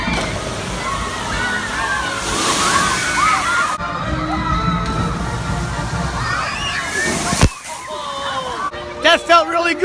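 Water from a log flume ride splashes and sloshes heavily nearby, arriving in loud surging rushes with cheering and voices from the amusement park crowd mixed in.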